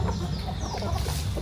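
Farm breeder hens cluck in a dense, continuous chorus close by, with steady overlapping calls.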